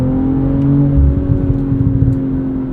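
A 2023 BMW M340i xDrive engine held at higher revs in sport mode with its ZF 8-speed automatic, giving a steady, close, layered droning hum that swells slightly, with light road rustle beneath.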